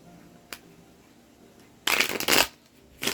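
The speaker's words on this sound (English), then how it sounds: "So I'm going to shuffle this 4 more times now." A deck of cards is riffle-shuffled in one loud, crisp burst lasting about half a second, preceded by a brief soft tap and followed by the start of another shuffle.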